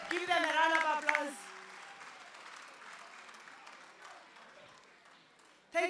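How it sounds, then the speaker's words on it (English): An audience at a Grade 12 national exam results release event applauds national champions. A voice speaks at the start, then a softer, dense spread of clapping continues beneath. "Can you please give them a round of applause?"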